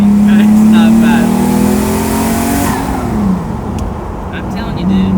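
A 750hp twin-turbo Lamborghini Diablo engine revs hard on an acceleration pull, a loud close droning tone rising in pitch then dropping and climbing again, with brief voices over the top.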